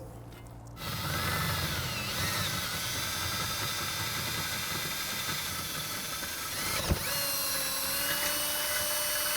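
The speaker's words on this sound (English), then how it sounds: "Double check it before we start it, and we'll start drilling." A power drill whines steadily and close by while drilling metal, a continuous grinding drone with a sharp click partway through.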